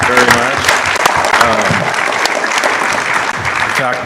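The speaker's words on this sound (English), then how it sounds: "Let's give them a round of applause." A forum audience applauds the candidates with loud, sustained clapping, while a voice talks over it now and then.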